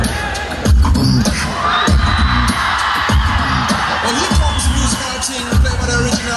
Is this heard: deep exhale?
no